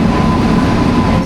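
A train arriving at a railway station makes a loud, steady, dense rumble with a faint high whine running through it. No voices are heard.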